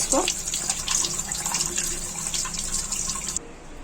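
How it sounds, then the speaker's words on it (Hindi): Poha (flattened rice) being rinsed in a strainer under a running kitchen tap, a steady close hiss of water with light splashing that stops abruptly near the end. "एक छन्नी में धो लेंगे"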